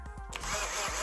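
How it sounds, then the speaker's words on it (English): Power drill widening a hole in a 3D-printed plastic holder for a kWeld spot welder, a steady close whirring grind running continuously after a few short knocks at the start. "You need to drill a little bit the hole here."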